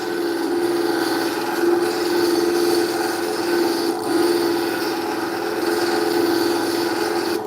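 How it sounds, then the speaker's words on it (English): A very rough diamond grit metal wheel grinds a serpentine rock cabochon preform, giving a continuous close rasping scrape with a steady hum and slight pressure swells. "the very first one is like a metal with diamonds in it, very rough grit that like eats away at the rock"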